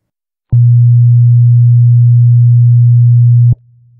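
Speaker phase test: a loud, sustained low-pitched tone played in phase, then cut abruptly to a much quieter out-of-phase tone of the same pitch, with no voices present.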